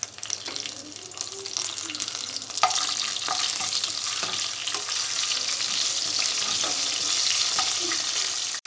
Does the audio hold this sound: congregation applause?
no